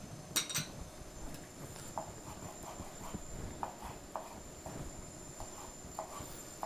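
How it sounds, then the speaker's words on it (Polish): A knife cuts smoked bacon into thin matchstick strips on a board, giving a run of soft, evenly spaced taps heard faintly in a quiet kitchen. "Wędzony boczek kroimy w cienkie paski, w takie zapałeczki"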